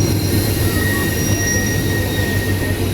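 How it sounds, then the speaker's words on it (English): Loaded gypsum hopper train in a train simulator game set in the Taurus Mountains, hauled by a DE 24000 locomotive, rolls steadily with a continuous low rumble, rail noise and high wheel squeal throughout. "Oh, it's a gypsum hopper train."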